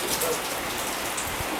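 Steady rain falls outdoors on land at Truk Lagoon, a continuous even hiss of drops with no pauses.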